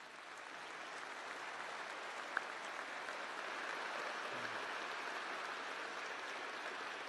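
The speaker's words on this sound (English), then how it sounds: "let's give them a round of applause" Steady applause fills a large commencement hall as the graduating class honors standing faculty, a dense even wash of clapping sustained from start to finish with no voices over it.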